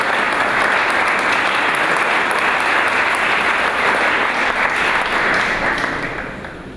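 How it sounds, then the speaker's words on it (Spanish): A large audience applauds steadily and loudly to welcome a speaker at a lecture on hazard zoning and risk assessment, a dense wash of clapping that holds for several seconds before starting to fade. "recibir al doctor Jesús Pacheco Martínez, solicito un fuerte aplauso de parte de ustedes."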